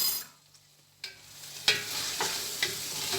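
Ingredients for Moroccan harira sauté in a pan, giving a few scattered sizzling bursts and stirring scrapes separated by short quiet gaps, moderately close.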